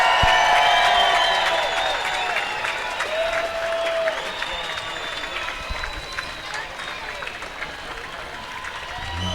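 Spectators at a US Masters Swimming spring nationals meet, the men's 200 butterfly, applaud and cheer steadily from the bleachers in a large echoing pool hall, with scattered shouts and whistles in the crowd.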